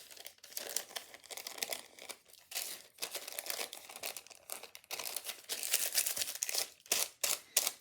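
Parchment paper peels and crinkles off a crayon artwork in irregular bursts of dry crackling and tearing, close and fairly quiet, growing more insistent toward the end.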